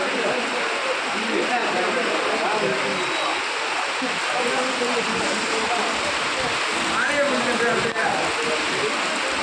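Steady rain falls at night on the main road of a village in Tamil Nadu during the monsoon season, a dense, even hiss of drops on the surface that is close and continuous for the whole stretch.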